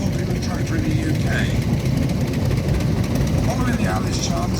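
A vintage Allis-Chalmers tractor engine runs steadily at a steam fair, a continuous low mechanical rumble with no breaks, with faint crowd noise blending into the background.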